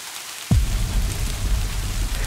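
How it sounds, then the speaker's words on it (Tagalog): Light rain used as a sound effect in a narrated Filipino aswang horror story, starting abruptly as a steady, soft hiss of falling drops with a low rumble underneath, continuing without any voice. "kasabay noon ang pagpatak ng mahinang ulan."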